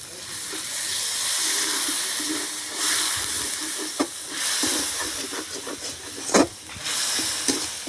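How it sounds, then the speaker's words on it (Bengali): Water poured into a hot pan of bomla (Bombay duck) fish curry hisses steadily, with louder bursts of steam and a few sharp crackles rising over the continuous sizzle. "একটু জল দিয়ে দিচ্ছি"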